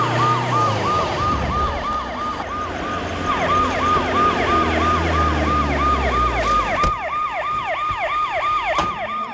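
An ambulance siren wails continuously in a rapid, repeating rise-and-fall pattern, loud and close, with a low vehicle rumble underneath and a brief thump near the end.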